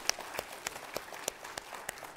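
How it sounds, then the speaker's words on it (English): Church congregation at a Sunday evening service applauding for a birthday: faint, scattered handclaps heard from a distance, sparse and uneven rather than a full ovation. "Let's go ahead and give him a round of applause tonight."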